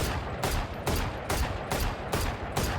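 Rifle shots in the Valorant video game fire in deliberate tapped bursts, each loud crack spaced about half a second apart in a regular rhythm, close and with no voices.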